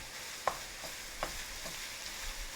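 Garlic sizzles and fries in a pan, a faint steady hiss broken by a few sharp clicks of stirring.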